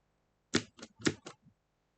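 Control and space pressed on a computer keyboard: four quick, close plastic key clicks in two pairs, then a faint fifth tap, in a quiet room.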